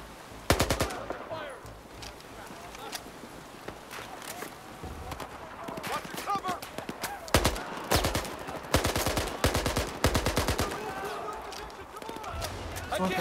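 Machine gun fire in the video game Battlefield 4, with loud rapid bursts and single shots spread across the scene, close and sharp, separated by short pauses and quieter background battle noise.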